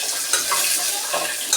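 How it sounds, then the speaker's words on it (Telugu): Tempering spices (lentils, cumin, dried red chilies and onion) frying in oil in a cooker: a brief, steady close sizzle with a few faint stirring clicks. "పోపు సామాన్లు వేసిన తర్వాత 1 నిమిషం వేగనిద్దాం."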